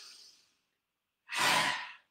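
A forceful open-mouthed lion's-breath exhale during a yoga goddess pose, one loud rasping breathy whoosh after a softer breath, close and alone with no talk.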